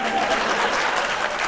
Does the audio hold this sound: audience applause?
yes